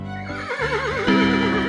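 A horse neighs loudly and close by, one long whinny with a quavering rise and fall, heard alone.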